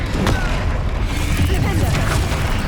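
Incendio fire spell cast in Hogwarts Legacy, a loud dense whoosh and booming burst that fills the whole clip amid battle noise and a character's shout.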